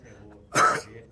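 A single short, harsh cough or throat-clearing burst, close and fairly loud, after a brief quiet stretch.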